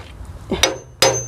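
Two sharp hammer blows, about a second apart, strike close by during a vehicle repair, each a bright metallic clang that rings out briefly.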